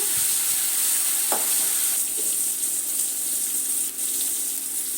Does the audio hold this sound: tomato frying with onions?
yes